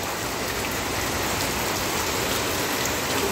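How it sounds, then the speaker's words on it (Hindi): Heavy monsoon rain pours down in a steady, loud, unbroken hiss of drops striking surfaces, with no voices. "यहाँ देख सकते हो सावन की बारिश हो रही है"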